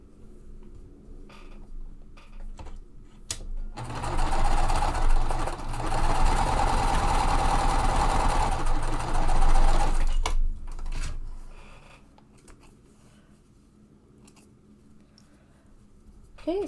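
A sewing machine stitches quilt pieces in one sustained, close whirring run of about six seconds, with scattered clicks and fabric handling before and after.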